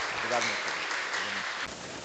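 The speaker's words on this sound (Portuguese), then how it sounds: "Uma salva de palmas para a Primeira Igreja Batista." A church audience applauds the First Baptist Church and its pastor at an Easter talk, a fairly faint spread of clapping running beneath a speaker's voice.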